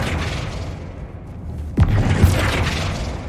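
The Flipendo spell is cast in Hogwarts Legacy, a sudden booming burst with a swooping whoosh that rises over a steady low rumble of ambient noise.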